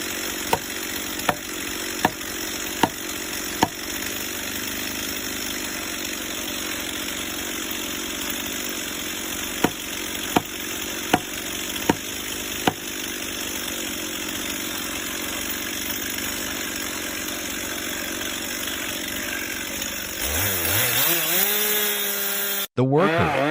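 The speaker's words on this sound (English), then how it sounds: "He started the steel MS-460 chainsaw, the roar of the engine reverberating in the quiet space." Stihl MS-460 chainsaw cutting into a large uprooted tree trunk, a loud steady engine drone held for about twenty seconds with sharp clicks along the way, then the revs climb and fall before stopping abruptly.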